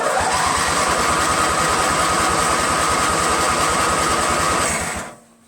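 A small engine, likely on a weed trimmer, leaf blower or snowblower, cranks and runs on choke at full throttle just after a carburetor swap, giving a loud, steady, rapid pulsing drone for about five seconds that cuts off abruptly.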